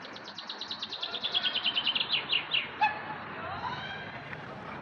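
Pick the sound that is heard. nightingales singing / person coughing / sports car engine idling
nightingales singing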